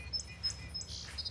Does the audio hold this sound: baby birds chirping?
yes